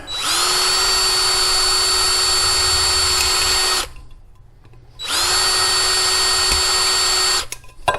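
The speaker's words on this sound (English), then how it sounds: "and then we'll drill these out." A power drill whines loudly as it bores holes into metal in two long bursts, separated by a short pause.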